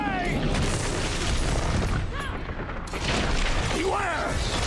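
Bombs exploding in the Guardians of the Galaxy video game, repeated heavy booms and bursts amid battle noise, with characters talking over the blasts.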